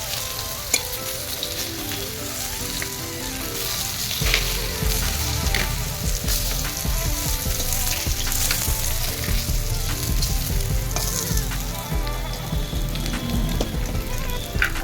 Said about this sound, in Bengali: আমি কিন্তু আরও একবার উল্টে পাল্টে ভেজে নেব